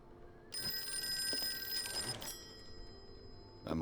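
An old-style telephone bell rings once in the Call of Cthulhu game, a bright metallic trill lasting about two seconds over quiet room tone, then fading before a faint click.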